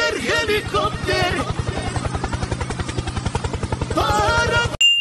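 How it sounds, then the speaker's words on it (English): Helicopter sound effect in a meme template: a steady, rapid rotor chop that fills the whole stretch at close, loud level, with voices briefly over it. "Helicopter, helicopter."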